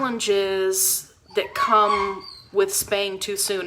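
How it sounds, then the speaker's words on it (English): Two poodle puppies scuffle and whimper under a desk, giving high whines and yips in close, steady bursts beneath a person's ongoing talk. "I've got 2 poodle puppies here that are just deciding to just really have an all-out brawl right underneath my desk."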